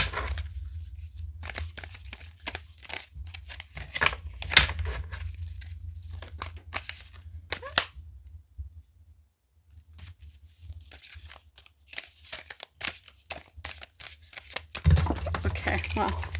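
Tarot cards being shuffled by hand, with bursts of crisp riffling and flicking that start and stop unevenly, heard close up while someone talks intermittently over them.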